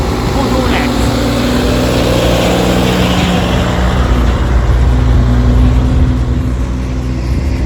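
Heavy trucks from a nearby stone quarry rumble past on a road in Oman's Musandam Peninsula, a steady loud engine drone with low tones lasting throughout, heard from inside a passing car with talk over it.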